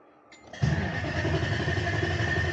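A vehicle engine cranks briefly, then catches and settles into a loud, steady running rumble close by after a quiet start, during wiring harness work, with no talk over it.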